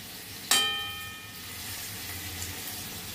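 Lentil fritters being stirred into a banana flower and potato curry, starting with one sharp clink of a utensil on the pot and then a steady soft sizzle with no talking.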